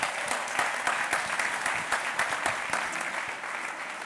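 A gala crowd applauds donors in a dense, even wash of clapping that holds steady for about four seconds at moderate distance.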